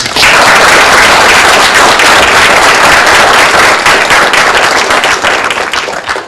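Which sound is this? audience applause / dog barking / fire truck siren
audience applause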